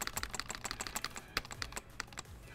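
Computer keyboard keys tapped in quick, irregular bursts while code is being deleted, close and crisp, with a few sharper keystrokes standing out and no talking.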